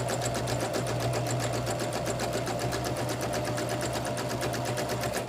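A sewing machine with a 1/4 inch foot stitches patchwork fabric in a fast, steady mechanical rhythm, close and continuous throughout with no pauses.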